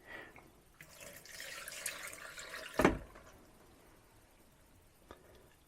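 Fenwicks drain cleaner is poured down a waste pipe, a faint liquid trickle and gurgle followed by a sharp splash, then quiet with a single small drip.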